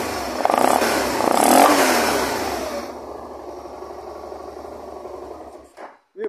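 A BMW G 650 GS motorcycle engine with an oil fault revs up loudly and close, then falls back to a lower idle that dies away, ending with a couple of brief clicks.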